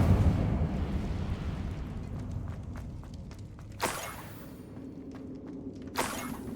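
The Incendio fire spell goes off twice in Hogwarts Legacy on PS5, each cast a sharp, whooshing burst. The bursts fall a couple of seconds apart over a low, rumbling game ambience with faint scattered ticks.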